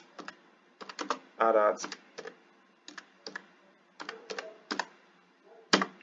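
Typing on a computer keyboard while working in a VS Code terminal, short clustered bursts of near, crisp key clicks with pauses between, and someone briefly speaking over one stretch.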